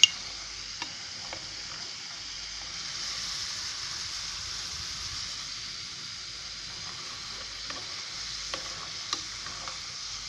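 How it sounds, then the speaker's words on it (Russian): Homemade french fries stirred while frying in hot oil, a steady soft sizzle running throughout with occasional faint clicks of the utensil, close by and fairly quiet, no voices. "я мешаю"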